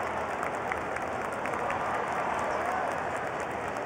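Home crowd applauding in a new stadium after a women's final, steady dense clapping and cheering sustained throughout, broad and loud from many people at a distance.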